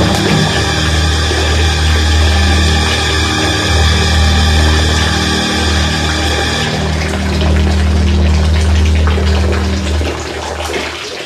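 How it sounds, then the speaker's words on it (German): A bathroom water tap running steadily with a loud, continuous rush of flowing water, close and unbroken for the whole stretch, its tone shifting slightly partway through. "Was ist das für ein Geräusch? Der Wasserhahn im Bad."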